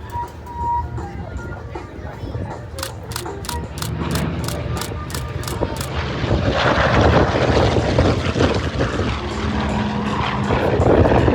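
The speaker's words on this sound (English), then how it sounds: "if you haven't got a great picture of the Sky Raider, here he comes down low." A Douglas A-1 Skyraider propeller airplane dives in low and close at an air show, the engine noise swelling louder and rougher as it passes nearby.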